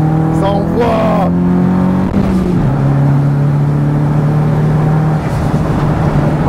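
A Nissan S13 on a race track at a Japanese car festival, its engine droning loud and close with a steady tone that shifts pitch as it changes speed; voices talk over the engine noise.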